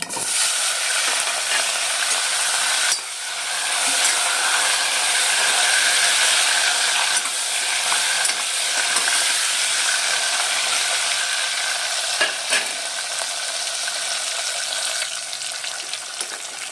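Mustard seeds, cumin, asafoetida, turmeric and peanuts tempering in hot oil for a Kathiyawadi drumstick curry give a continuous close sizzle with dense crackling and scattered sharp pops.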